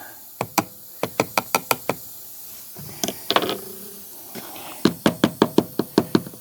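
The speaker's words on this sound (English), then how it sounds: "Tap it down in there." Sharp, dry taps on a funnel settling powder into a bottle, in quick bursts of about five or six knocks each, with a short rustle of handling between the runs.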